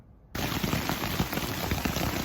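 Steady rain drums on a Big Agnes Scout Plus UL2 ultralight backpacking tent overnight, a dense close patter that starts abruptly after a brief quiet moment and continues evenly throughout, with no voices.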